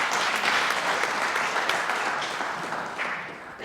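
Audience applause at a magic show in an art gallery, a full, continuous wash of many hands clapping that stays strong and eases off slightly toward the end.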